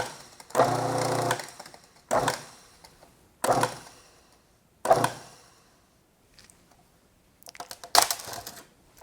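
Food processor blade whirring through shortbread dough made with cashew flour, heard in about five short bursts of pulsing, each roughly a second or less, separated by silent gaps.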